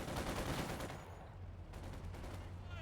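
A DP machine gun firing in Company of Heroes 2, faint rattling bursts of automatic fire under a dense wash of distant battle noise.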